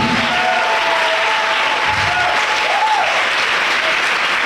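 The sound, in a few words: congregation applauding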